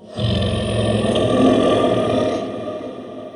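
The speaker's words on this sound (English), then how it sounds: "The Roar That Awakened a King." A lion sound effect gives one long, deep, rumbling roar. It swells in quickly, holds loud and close for about two seconds, then fades out. No voices accompany it.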